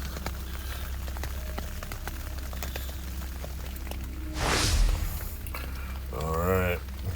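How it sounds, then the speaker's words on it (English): Steady rain pattering on a Reactive Outdoor 3Secs tent at night, with a constant hiss, a louder gust of downpour midway, and a brief voice near the end. "Listen to that rain."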